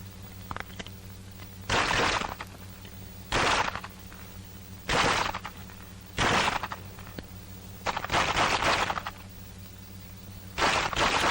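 A rifle fired from the hip in repeated bursts, about seven loud cracking volleys spaced a second or two apart, close and harsh against a humming background on an old 1942 combat training recording.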